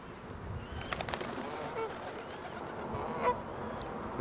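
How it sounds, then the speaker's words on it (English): Geese honking outdoors during bird feeding, with a few sharp calls clustered early and another near the end over steady outdoor background noise, alongside gulls and pigeons. "Oh, here come the seagulls and honking geese."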